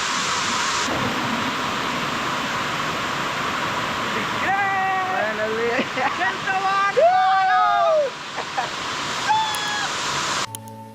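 The Chintavanipalem waterfall near Maredumilli roars as a steady rush of falling water throughout, with people talking and calling out over it.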